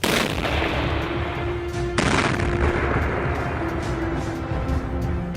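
Explosions and fire roar through a minefield while a worker tests a protective suit, with a loud, sustained blast rumble that surges sharply partway through and carries on without speech.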